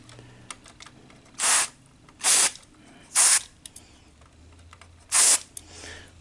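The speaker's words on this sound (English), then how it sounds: "just gonna get some cleaner in these little solenoid switches" Contact cleaner sprays into small solenoid switches on a Sony SL-HF900 deck in four short, sharp hissing bursts, close up, separated by quiet pauses with light clicks.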